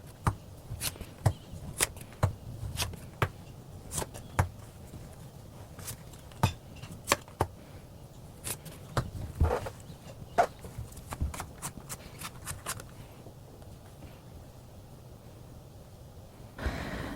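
Tarot cards being shuffled and drawn, heard as soft scattered taps and brief papery clicks at an irregular pace, quiet and close with no talking.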